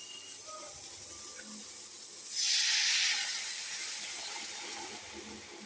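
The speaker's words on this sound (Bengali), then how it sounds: "এবারে জল ঢেলে দেবো।" Water is poured into a hot cooking pan while fried rice and chicken kosha are being cooked. A quiet background hiss swells into a sharp steamy sizzle that peaks, then slowly settles back into a softer hiss.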